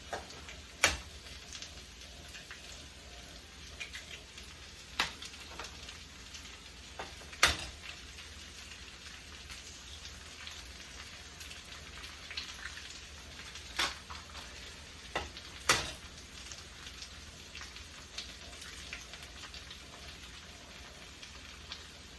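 Eggs fry with chilaquiles verdes in a pan, giving a faint, steady sizzle with sharp ticks and pops scattered throughout and no speech.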